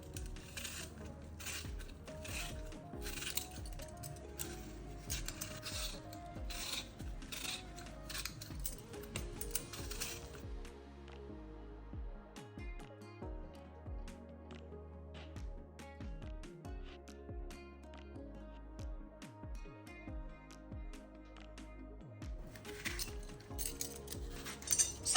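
Apples are peeled by hand for a rhubarb and apple crumble, giving quiet, irregular scraping and clicking sounds with light knocks and clinks of utensils throughout, close and soft.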